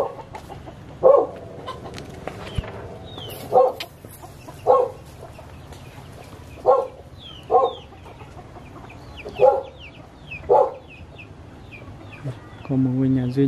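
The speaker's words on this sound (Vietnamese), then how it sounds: "nuôi gà cũng thả rong luôn" Free-range chickens roam around a lone house in a highland forest village, giving short, separate clucks every second or so against a quiet outdoor background, with a few faint bird chirps.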